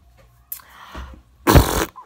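A person vocally imitates a big fart, a loud, rumbling raspberry-like burst lasting under half a second, following a softer breathy lead-in, with no other talk.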